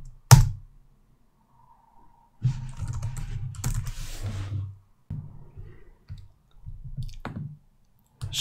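Computer keyboard typing a terminal command during a web server install, heard as a sharp opening click followed by several bursts of close, muffled key taps separated by short pauses.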